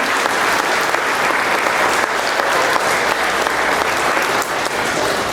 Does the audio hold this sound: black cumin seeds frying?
no